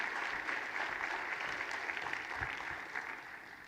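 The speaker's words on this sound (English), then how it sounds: "join me in one more round of applause for our commissioners and for all the volunteers" Steady applause from a crowd at an annual meeting, dense clapping that holds at an even level throughout without voices standing out.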